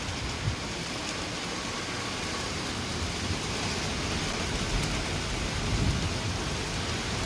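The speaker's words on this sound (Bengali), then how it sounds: "কি হাওয়া দিচ্ছে আর কি ছাড় দিচ্ছে, দেখো হাওয়ার মতন উড়ে যাচ্ছে আবার বৃষ্টিগুলো।" Rain driven by gusting wind hisses steadily and densely on surfaces near an apartment, a loud even wash with soft swells and occasional low rumbles.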